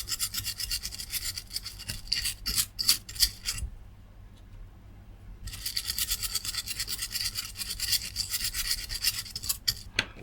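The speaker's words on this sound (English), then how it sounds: "Let's see if we can clean some of this up with isopropyl alcohol." A brush scrubbing a corroded circuit board around a bulk smoothing capacitor with isopropyl alcohol, giving close, rhythmic bristly strokes, with a brief pause partway through before the scrubbing resumes.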